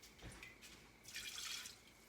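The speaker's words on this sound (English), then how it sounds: "I'll add in just another half a cup of water" Half a cup of water is poured in a kitchen while making bourbon soaked cherries, a short close splash and trickle that briefly swells louder before tapering, with no talking.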